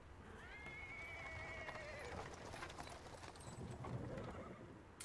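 Horse-drawn cart in the Pathfinder: Wrath of the Righteous video game, with hooves clip-clopping on paving stones and a horse whinnying near the start, heard at moderate loudness.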